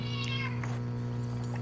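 A person imitates a cat meowing during a Fortnite match, a short series of high, drawn-out mews heard close and loud over a steady low game hum.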